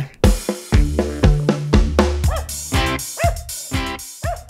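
A sequence of dog barks and yips in quick succession, loud and close, with short gaps between each bark.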